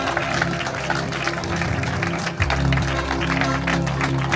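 Applause from a church gathering's audience rolls on steadily, a dense wash of clapping with some crowd murmur and a low hum beneath.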